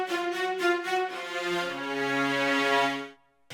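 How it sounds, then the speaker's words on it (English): Sampled Kontakt string ensemble of cellos and violas plays a short staccato hit that shifts into a sustained legato line, a clear, close sound with no talking, fading out near the end. "So at first it's a staccato hit and then it'll go to a legato hit."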